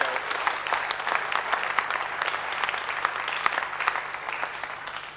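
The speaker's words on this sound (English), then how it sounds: "Let's give him a clap, shall we?" Moderate audience clapping at a youth seminar, individual claps distinct within a sustained, slightly distant patter and low room hum, with no talking.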